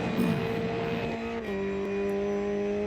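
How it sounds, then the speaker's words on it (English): Ginetta GT5 race car in Automobilista 2 at Imola, engine droning at full throttle with a steady pitch that drops at a gearshift midway, close and continuous, with no talk. "and full throttle ahead"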